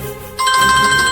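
A mobile phone ringtone for an incoming call sounds loudly and close by in a Tamil TV drama scene, starting abruptly as a bright, repeating electronic tune.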